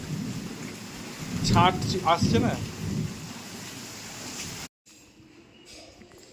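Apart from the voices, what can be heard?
rain and thunder during monsoon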